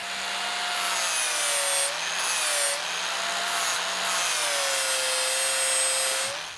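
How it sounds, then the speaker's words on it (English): An angle grinder works over a weld area on a lower king pin, its steady high whine wavering in pitch as the load changes, loud and continuous with no voices. "time to grind."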